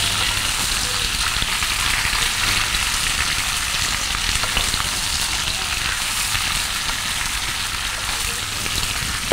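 Vegetables for a Bengali spinach and bori dish fry in a pan with a dense, continuous sizzle and crackle that stays loud and steady throughout, with a few soft stirring scrapes and no voice.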